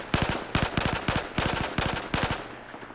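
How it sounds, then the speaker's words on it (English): Battlefield 4 ACWR rifle firing in burst mode: about six short three-round bursts in steady rhythm, loud and close with sharp cracks, no talk over it. "Let's check out its burst fire."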